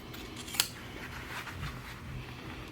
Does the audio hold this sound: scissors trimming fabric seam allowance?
yes